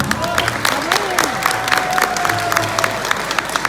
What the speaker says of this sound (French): Alors, un grand applaudissement pour l'association des élèves